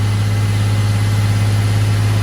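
A car engine held at about 2,000 rpm during MAF sensor testing in an automotive lab, a steady loud hum with a strong low drone, constant and close with no speech.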